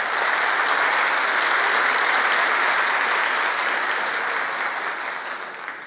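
Audience at the official opening of a rural congress applauding a band from the CPI-5 police unit, a dense, loud, sustained round of clapping that slowly tapers at the end.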